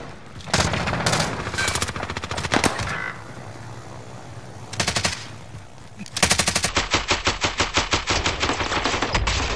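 Video game gunfire in Call of Duty Warzone: loud bursts of rapid automatic fire in several volleys with short gaps, ending in a long sustained rattling burst.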